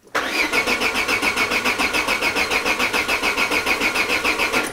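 A Peugeot 205 engine is cranked by its starter motor in a rapid, regular chugging whir that cuts in abruptly and keeps cycling evenly for several seconds without catching, loud and close.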